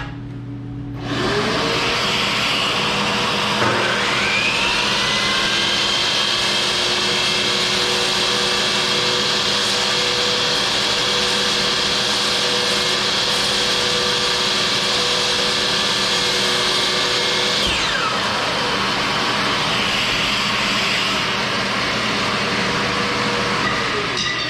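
A loud, steady vacuum cleaner roar with a high whine spins up, runs continuously for a long stretch, then winds down.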